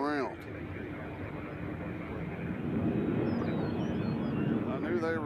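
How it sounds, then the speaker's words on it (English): Airliner in One World livery on a go-around at Nashville International Airport, a steady distant jet engine roar that swells slightly while a voice talks briefly at the start and end. "We have a go-around. The One World livery is going around."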